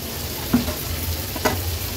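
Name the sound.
stir-frying fish masala with salt in pan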